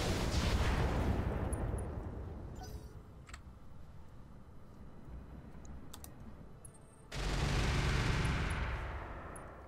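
Weapons volley with acid rounds in the BattleTech mod Roguetech: dense, loud bursts of game gunfire and impacts fill the opening seconds, ease to a lower rumble, then surge again near the end.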